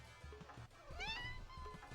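A cat gives a single rising, drawn-out meow near the middle of the moment, fairly close, over a low background hum.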